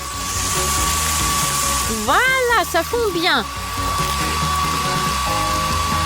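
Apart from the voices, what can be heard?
hair dryer blowing to melt gummy candies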